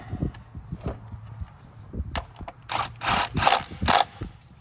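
A bolt is tightened down on a 2007 Honda CR-V 2.4L engine during spark plug replacement, heard as close, quick ratchet clicks in several short bursts, with a few knocks and handling sounds between them.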